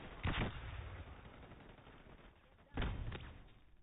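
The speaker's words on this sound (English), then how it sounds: "I'll say this once. Flashbang." A flashbang grenade goes off in two sharp, loud bursts, the first near the start and the second near the end, separated by a duller stretch of muffled ambient noise.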